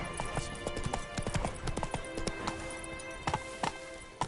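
Roach the horse galloping in The Witcher 3 on PS5, steady rhythmic hoofbeats clopping close and clear for several seconds with a faint rustle of tack and ambient game sound.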